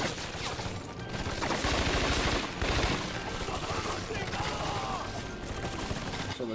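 Dense rapid gunfire rattles almost continuously in Scarface: The World Is Yours on PS2, loud bursts of automatic shots layered over other game noise.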